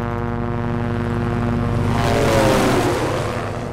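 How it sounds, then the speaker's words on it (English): An aircraft drones overhead in the Project Zomboid video game, a loud, steady engine hum that swells and shifts in pitch as it passes, with no voices. "So many planes and stuff. Helicopters."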